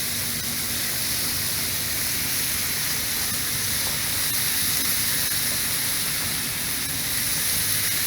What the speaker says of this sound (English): You hear these tomatoes back here will kind of start to pop a little bit and sizzle.